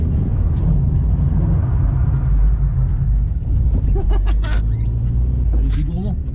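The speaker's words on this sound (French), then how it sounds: "Maintenant, tu mets grand gaz, genre il y a des chevaux qui arrivent." Mercedes 190E drift car revving hard at full throttle, a loud, continuous low engine roar close by, with voices talking and laughing over it.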